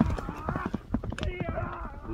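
A horse races at a gallop, its hoofbeats drumming in quick uneven clip-clops close by while a voice talks over them.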